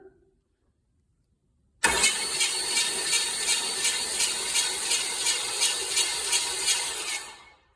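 A Chevy small block 350 V8 with a new battery and cables cranks over on the starter after a silent pause, a loud, rhythmic chugging whir that runs steadily for several seconds without firing, then fades.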